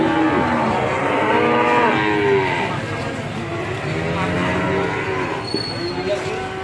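Cattle at a cattle market in Panjer, newly arrived feeder cattle, moo loudly and close by in long, drawn-out calls that overlap one another continuously against a busy background.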